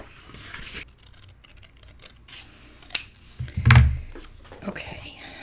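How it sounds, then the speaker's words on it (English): Scissors cutting pieces of craft paper, a few short snipping and rubbing strokes, with one louder cut near the end, close by and quiet, alongside light talk. "All right, let me cut these."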